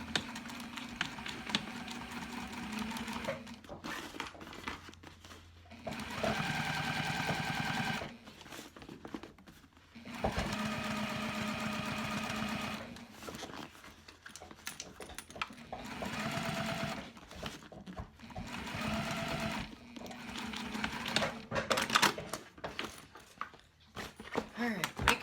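A sewing machine stitches the side seams of a fabric Retreat Bag in bursts of steady whirring, with a few pauses between runs.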